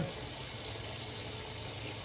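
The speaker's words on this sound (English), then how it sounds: "A bit more water onto the brush because we can." Water runs steadily from a tap onto a shaving brush, a close, continuous splashing hiss with no voices.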